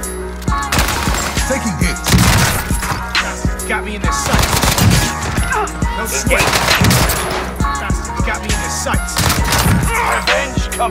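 A video game shooter fires loud, close bursts of automatic gunfire, with rapid overlapping shots that repeat in clusters for the whole stretch. Only brief gaps fall between the volleys.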